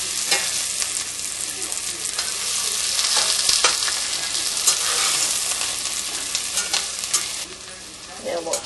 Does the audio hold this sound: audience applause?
no